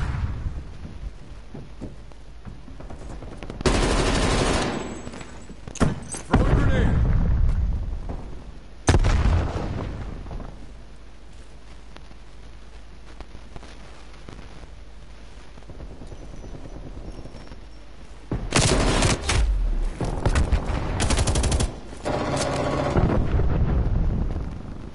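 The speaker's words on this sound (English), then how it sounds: "Deploying flashbang." Flashbang grenades and heavy blasts burst in Call of Duty Black Ops Cold War, several loud explosive bangs separated by quieter stretches of rumbling game ambience, with a dense cluster of detonations near the end.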